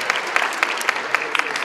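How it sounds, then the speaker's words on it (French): Crowd at a dance event claps steadily and close by, a brisk, even patter of many hands filling the short moment. "Donc on peut l'applaudir parce que franchement, chapeau, chapeau"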